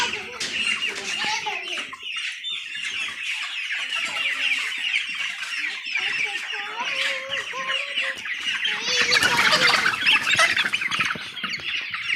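Farm chickens clucking in a daytime poultry shed, a busy overlapping chorus of close, loud clucks and squawks with a louder flurry of agitated cackling near the end, voices talking underneath.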